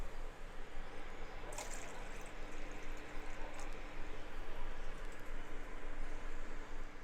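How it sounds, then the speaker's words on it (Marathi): Two glasses of water poured into a heated cooking pot for an Ayurvedic kadha, a steady soft trickling and splashing that stays fairly even for several seconds with no talking. "2 ग्लास मी पाणी घालणार आहे त्यामध्ये"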